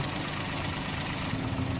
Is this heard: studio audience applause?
no